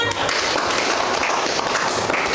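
A classroom group claps for group 1, a dense burst of many hands clapping steadily through the moment, close and fairly loud.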